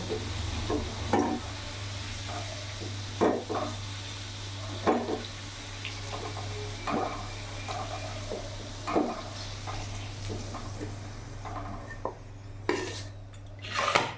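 Fried potatoes, cooked red with a little turmeric, being lifted out of hot oil in a pan, with metal utensils clattering and scraping against the pot in repeated bursts over a steady low sizzle, close and fairly quiet, no talking.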